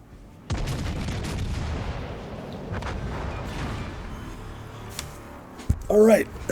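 Heavy battleship guns of HMS Warspite in World of Warships fire with a deep boom, followed by several seconds of low rumbling and distant thuds, ending with a brief sharper game sound.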